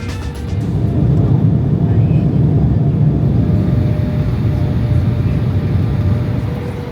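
Steady low engine drone inside a small passenger plane in flight, constant and fairly loud, with no talk over it.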